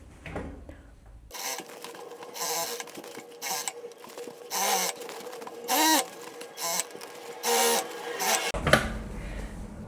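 A domestic sewing machine runs in several short stitching bursts along a skirt seam with gathers, each a rapid mechanical whir separated by brief stops, close and steady.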